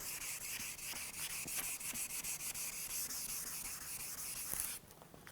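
Continuous close-up scratchy rubbing of 800-grit flexible sandpaper backed by fingers on a hard guitar finish, steady back-and-forth strokes that stop abruptly near the end.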